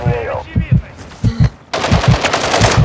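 Video game gunfire from a multiplayer shooter: bursts of rapid automatic shots, loud and close, with a denser sustained volley at the end and players talking over it.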